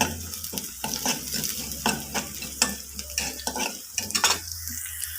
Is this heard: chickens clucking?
no